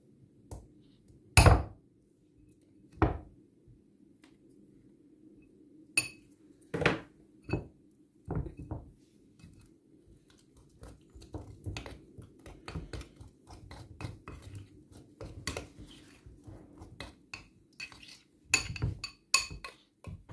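Baking soda and shea butter being mixed in a bowl, with sparse sharp clinks and taps of a utensil against the bowl, then a steadier run of softer scraping knocks, close and without talk.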